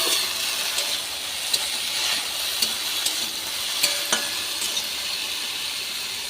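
Green banana and papaya for shukto sizzle steadily in mustard oil with bay leaf and mustard seed tempering, while a spatula scrapes and stirs in a few sharp clicks over the constant hiss.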